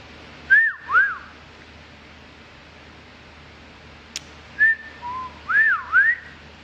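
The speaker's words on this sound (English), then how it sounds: "Oh, you know what they say about people that know how to whistle?" A person whistles a playful tune close by, swooping two-note phrases at the start, a pause with one faint tick, then several more rising and falling whistled phrases, with no talking.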